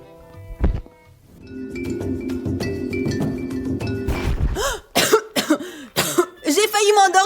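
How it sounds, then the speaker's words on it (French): A woman coughs once, sharp and close, then a low steady hum takes over before a voice starts talking. "Heureusement que j'ai commencé à tousser."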